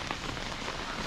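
Rain falling on a camping tent during a field test, a steady dense patter of drops on the fabric, continuous and fairly close with no talking.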